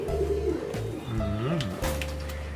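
A high flyer pigeon from Lucknow coos softly in short, rounded phrases close by, while someone talks over it.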